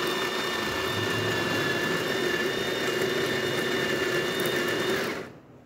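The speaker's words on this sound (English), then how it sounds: "We're gonna grind some coffee real quick." Coffee grinder steadily grinding beans for an espresso machine, a loud continuous whirring drone with a high whine that runs for about five seconds, then cuts off abruptly into quiet.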